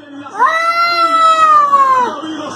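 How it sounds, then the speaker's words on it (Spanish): A cat lets out a long, loud drawn-out yowl that rises, holds steady and then drops off, heard close and alone without any talk. "El gato grita"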